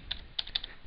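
Rapid keystrokes on a computer keyboard come in three short clusters of sharp, close clicks with brief pauses between them. No one talks.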